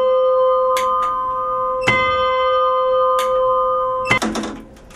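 Mechanism of a town clock in Belize strikes its bell several times at uneven intervals, each clear metallic hit ringing over a steady tonal hum, with a cluster of quick clanks near the end.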